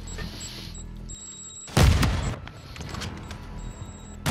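A grenade explodes in the video game Call of Duty: Modern Warfare II: one loud, sudden boom with a rumbling tail, cutting through steady in-game background noise, with no talking.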